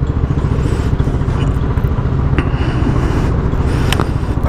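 A Modenas 250 cc motorcycle idles steadily at a petrol station pump, its close, even engine throb running loud and alone with faint clatter on top.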